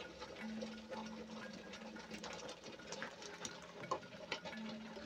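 Blender grinding sesame seeds for red pipian sauce, a faint whirring motor with uneven rattling and clatter running throughout, with no talking.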